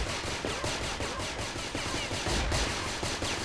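Shotgun fire in a video game, shots blasting in quick repeated succession at close range over a dense, steady game soundscape.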